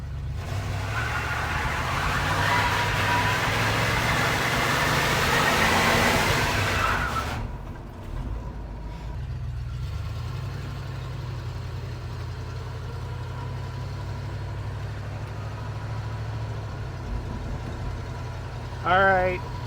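An old Chevelle pulled from a barn runs on its first test drive, a steady low engine rumble that grows louder and busier early on, then settles into a duller drone with people talking over it.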